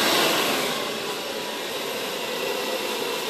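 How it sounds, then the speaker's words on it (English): A BaBylissPRO Rapido blow dryer runs at low heat and low air in a barbershop, giving a steady, loud, close whooshing roar that holds throughout with no voices. "My Rapido blow dryer."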